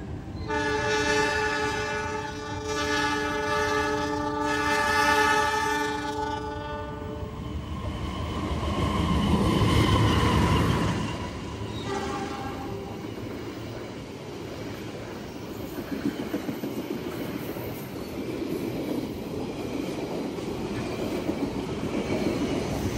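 An Indonesian KA Pasundan passenger train near Ciawi station sounds a long, loud horn blast, then rolls on with a heavy rumbling roar and rail noise that eases to a steady running drone.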